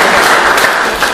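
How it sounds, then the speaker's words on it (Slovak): An audience at an indoor event gives a quick burst of applause, a dense patter of clapping hands that fades slightly toward the end. "páni, dámy, veľký potlesk pre všetko"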